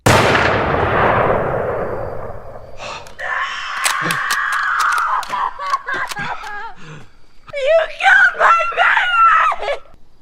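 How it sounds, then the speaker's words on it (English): In a horror film scene a sharp gunshot cracks and then rings away, followed by shrill screaming and gasping cries that rise and break into ragged, panicked sobs. "in that scene a baby gets shot and killed"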